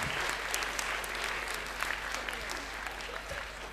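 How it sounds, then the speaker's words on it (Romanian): Applause from the crowd at a stand-up comedy show in Sala Maximilian, Buzău: steady, fairly soft clapping spread across the room, a few sharper claps standing out, with no talk over it. "Aplauze și pentru Codruț"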